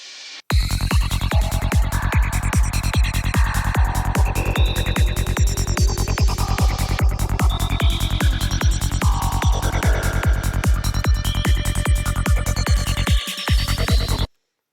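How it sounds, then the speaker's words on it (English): A loud, dense synth texture made in Serum with a fast pulsing throb underneath and shimmering, fluttering high tones sweeping across it, continuous for over ten seconds. "we're going to be making this fluttery high energy atmosphere which sounds like this."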